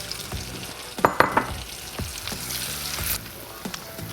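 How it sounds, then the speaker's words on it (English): Half an onion softening in a stick of melted butter in a pan gives a close, steady sizzle, with a few sharp clicks and scrapes from stirring near the middle. "taking a stick of butter and melting it in my pan. And I'm going to add to it our onions"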